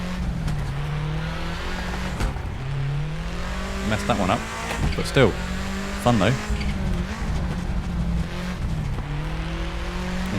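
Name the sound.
1995 Subaru Impreza WRX STI engine, handbrake turn in Assetto Corsa video game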